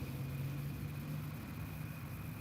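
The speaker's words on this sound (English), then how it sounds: "That car ain't gonna work tomorrow" A struggling car engine runs with a steady, low, droning rumble that holds at a fairly even level throughout, with no one speaking.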